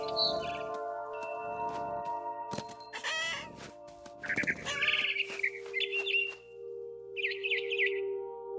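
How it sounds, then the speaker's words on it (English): A barn swallow in the video game What Remains of Edith Finch chirps in short, bright bursts of tweets over a steady tonal game ambience, with no voices. "Then I heard chirping outside my window. It was a barn swallow going back to her nest."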